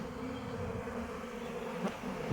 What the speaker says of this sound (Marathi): आता हळूहळू बघा इकडं कशी झुंबड लागल माश्यांची